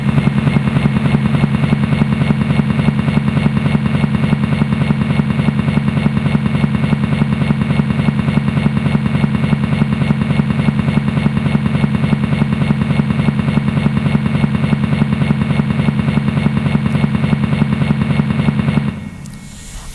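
A helicopter sound played during a staged tableau performance: a loud, unbroken rotor drone that holds steady for about nineteen seconds, then cuts off abruptly.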